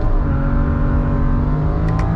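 A BMW with the N54 engine launching hard, loud strained engine roar and whir as the tires break loose on the 1-2 shift, sustained and close.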